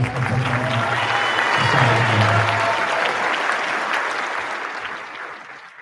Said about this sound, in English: Let's give him one more round of applause for our guest.